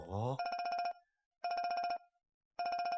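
A telephone rings in three evenly spaced electronic trills, each burst a rapid warbling tone followed by silence, close and clear after a short bit of voice at the start.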